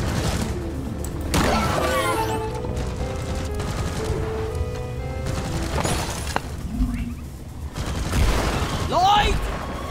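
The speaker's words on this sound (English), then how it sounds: "Let's stick close to this machine gun because it's protecting us" Machine gun turret in Deep Rock Galactic fires sustained bursts amid the chaos of a swarm attack, with booms, shattering impacts and a player talking over it.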